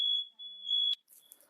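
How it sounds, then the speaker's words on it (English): A smoke alarm lets out two sharp, high-pitched beeps in quick succession, loud and close, followed by a brief rustle. "little smoke alarm action there, but we're good."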